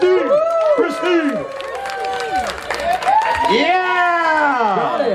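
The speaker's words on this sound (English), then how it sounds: "let's give her a round of applause, Christine." Audience at a Deadlift for Dreams charity deadlift event claps and cheers steadily throughout, with whoops and loud voices mixed in over the crowd noise.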